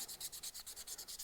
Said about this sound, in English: Hand sanding is not fun, guys.